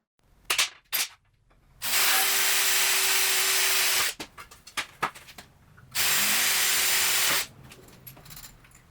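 A power drill bores holes in a welding cart shelf in two steady bursts of a few seconds each, close and loud, with brief taps and clatter of handling before and between.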